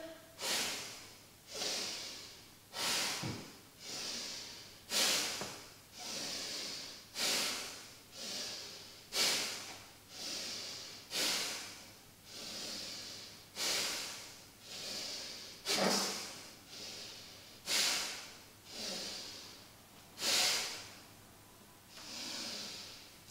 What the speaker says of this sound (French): Respiration du feu.